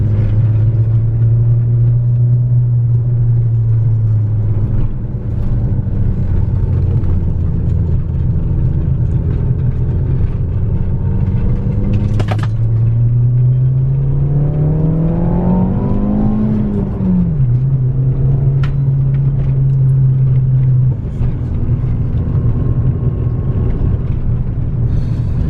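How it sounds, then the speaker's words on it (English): Engine of an MK4 Volkswagen GTI on a test drive, a steady low drone heard from inside the car that rises in pitch as it accelerates, drops after a shift, then settles again, continuous with no talking. "So let's take it for a drive and see how it feels."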